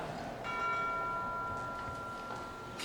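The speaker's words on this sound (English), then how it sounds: "we were not at all pleased to hear a cab draw up at our door and the ring of the bell" A doorbell rings with a steady sustained tone over a noisy, rainy-sounding background, fading slowly, with no voices.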